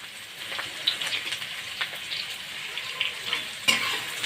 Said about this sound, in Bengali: পেঁয়াজটা ভাজা ভাজা হোক লাল লাল করে